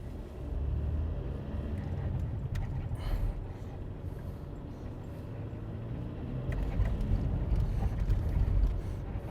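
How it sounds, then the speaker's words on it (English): A noisy car drives through Las Vegas streets in December traffic, its engine rumbling steadily and close throughout, swelling louder toward the end with no talking. "my noisy car"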